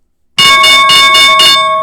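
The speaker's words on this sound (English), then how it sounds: "All right, there's our opening bell." The stock market opening bell rings loud and close as a rapid series of clanging metallic strikes, starting abruptly and sustaining for over a second with a bright ringing tone.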